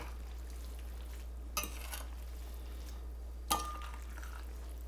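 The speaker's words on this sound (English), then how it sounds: "Give it a good stir and let it do its thing for a minute or so before you serve it." Carbonara with bacon, wine and pepper is stirred in a pan, with two brief scraping swishes a couple of seconds apart over a faint, steady sizzle and low hum.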